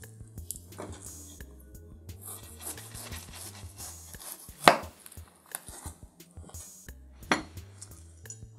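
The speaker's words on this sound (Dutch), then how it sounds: "gaan we de ananas snijden." A knife cuts through a pineapple on a cutting board in a few scattered strokes, with two sharper, louder cuts standing out against a quiet kitchen background.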